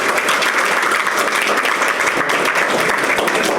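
Steady, dense applause from a seated audience at a legislative luncheon held at a country club, many hands clapping loudly and continuously with no voices over it.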